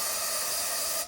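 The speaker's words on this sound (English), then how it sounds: "we are swimming in brake cleaner, trying to clean all the jets" Brake cleaner sprays in a steady, close hiss onto engine carburetor jets during an RS Cosworth replica engine rebuild, a single continuous burst cutting off after about a second.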